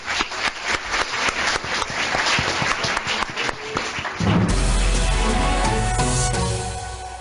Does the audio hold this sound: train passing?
no